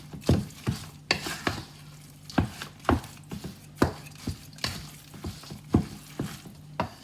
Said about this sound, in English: let's just fold it over with my wooden spatula